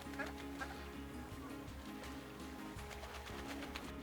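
Muscovy ducks on a Kenyan duck farm give soft, low quacks and hisses amid a steady mix of fowl and other birds, with a constant hum underneath.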